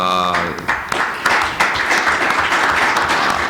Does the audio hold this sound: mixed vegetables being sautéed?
no